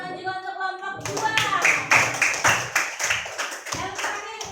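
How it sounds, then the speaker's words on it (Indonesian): Students in a primary school classroom clap for a student group during a practice teaching lesson, sharp close hand claps in a loose, fast rhythm after a brief spoken moment at the start. "kasih tepuk tangan juga untuk kelompok 2"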